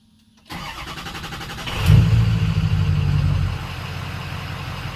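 A Ford F250 with a 6.0 diesel engine, started for the first time after new glow plugs are fitted, cranks briefly, then catches with a loud rise and settles into a steady, rumbling idle heard up close.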